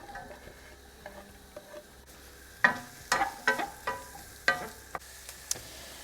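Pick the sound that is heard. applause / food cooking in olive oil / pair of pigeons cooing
food cooking in olive oil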